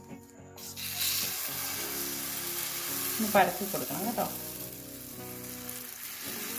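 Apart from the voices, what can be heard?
vegetable batter sizzling in hot oil in a pan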